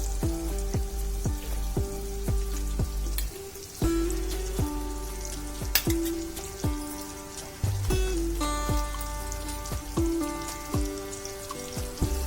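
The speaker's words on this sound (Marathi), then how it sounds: "एक साइड फ्राय झाली की मग दुसरी फ्राय परतूया." Shingala catfish frying in oil in a pan, giving a continuous dense crackle spattered with sharp pops like rain on a surface, steady and close throughout with no speech.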